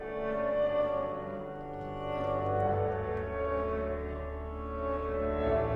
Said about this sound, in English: so that's a tiny room reverb.